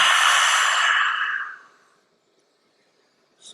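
Forceful, breathy exhale during a lion's breath breathing exercise, one long loud hissing out-breath fading over about two seconds, then silence before a short intake at the end.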